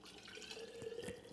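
Hot water poured over a sugar-free, dairy-free icing mixture with bloomed gelatin, a quiet close trickle and splash with a few brighter drips near the end.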